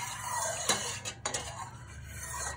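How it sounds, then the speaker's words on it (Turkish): A spoon stirs rose water into milk in a pot as Ramadan güllaç is prepared, giving a couple of close metallic clinks over a faint background hum. "Bir yemek kaşığı gül suyumuzu da içerisine katıyoruz. Evet, onu da kattık ve karıştırıyoruz sütümüzü."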